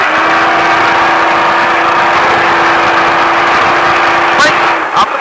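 A Baja truck engine runs on a track with a steady droning tone that holds for several seconds, followed by a couple of sharp transient bursts near the end.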